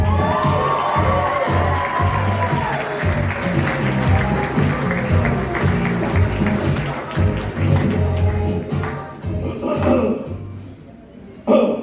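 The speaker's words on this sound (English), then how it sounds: "I want you all to give a big round of applause for John Hanson." A comedy club crowd at an improv contest applauds and cheers as the next comic takes the stage, with loud, sustained clapping and whoops mixed with voices and some music, tapering near the end.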